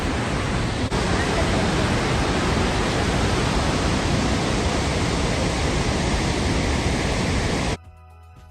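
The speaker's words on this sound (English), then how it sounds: "then we found their breathtaking waterfalls" Snoqualmie waterfall roars as a dense, constant rush of falling water, loud and close, cutting off abruptly near the end.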